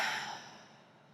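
A long, soft exhale during a yoga backbend, a breathy rush that starts fairly strong and fades steadily over about a second, heard alone.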